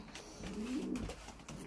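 A stock pigeon in a breeding loft gives a soft, low, rolling coo close by, swelling in the middle and fading, with faint rustling in the background.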